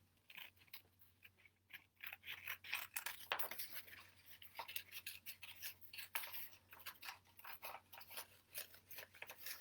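Repeated snipping and crunching of scissors cutting through stiff cardboard for a rainstick, close up and steady, with no talking.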